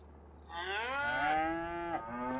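Cattle moo in a farming survival video game, a single long, drawn-out low call rising and falling over about two seconds, clear and close with a quiet background and no talk.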